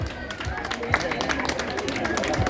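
Crowd applause at a coronation ceremony for Her Majesty Ángela I, steady clapping from many people mixed with crowd murmur and a voice speaking over it.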